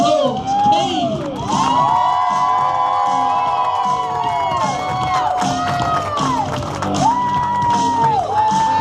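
A large crowd cheers, whoops and shouts for a youth team at an opening ceremony, a loud, dense roar with high children's voices rising and falling throughout.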